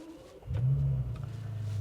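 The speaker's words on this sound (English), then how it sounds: "The exhaust note sort of rumbles through the cabin," A low car exhaust rumble swells in after a quiet start, holding a deep steady drone that stays fairly loud to the end.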